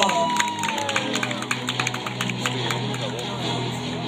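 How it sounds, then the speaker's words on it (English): Crowd clapping and cheering in a pageant hall for Rafael from Brazil, fourth runner-up at the Mister Gay World 2016 final, a dense even wash of applause with a voice carrying over it. "Give your applause"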